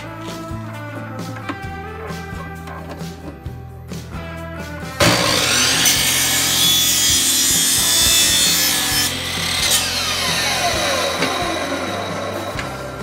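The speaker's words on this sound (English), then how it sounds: "Here I have some 1¼-inch PVC pipe. I'm going to cut it into 5-inch sections." A hand saw cuts 1¼-inch PVC pipe into short sections: sustained rasping strokes start partway through and continue loudly to the end, following a quieter stretch of background music.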